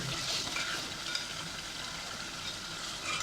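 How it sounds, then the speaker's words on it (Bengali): Pangas fish being stirred in a cooking pot gives a soft, continuous sizzle with faint scraping and bubbling, fairly quiet and steady, with no voices. "তো আমি এখন পাঙ্গাস মাছের পাতিলে আসলাম, এখানে ভালো করে"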